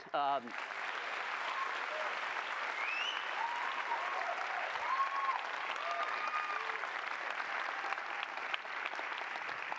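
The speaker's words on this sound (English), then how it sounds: "why don't we just first of all give them a big round of applause" An audience at a Harvard evening event breaks into a big round of applause, a dense, steady wash of clapping that holds for several seconds, with a voice briefly heard at the start.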